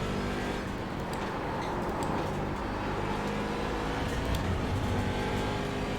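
Race car engine in an IMSA racing simulator game, a steady, loud drone with a continuous engine hum throughout, holding fairly even with no talking over it.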